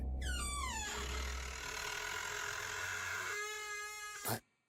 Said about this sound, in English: I heard my bedroom door creak open.